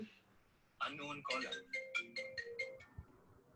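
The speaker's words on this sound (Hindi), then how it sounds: "ये मेरे को कब से फोन करके परेशान कर रहा है" A phone ringtone for an incoming call chimes in a short run of bright, evenly spaced electronic tones over about two seconds, breaking into a classroom-style math lesson, with a voice talking around it.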